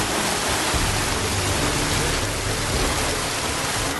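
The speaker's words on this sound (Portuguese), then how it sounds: "No centro da cidade, a Avenida da Saudade se transformou num verdadeiro rio." Heavy rain turns a city-centre avenue in Laranjal Paulista into a river of floodwater, which gives a loud, dense, unbroken rushing roar throughout.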